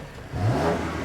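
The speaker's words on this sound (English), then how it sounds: "the exhaust has been real muffled." A BMW M4 engine revs up briefly, a deep, muffled exhaust note rising and holding for about a second.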